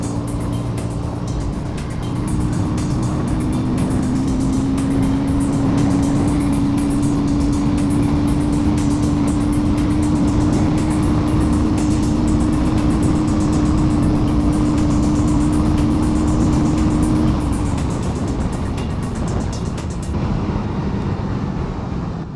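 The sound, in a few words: KTM Duke 160 motorcycle engine accelerating during ride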